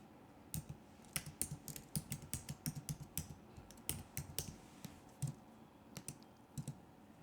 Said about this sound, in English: I'm going to type my tag.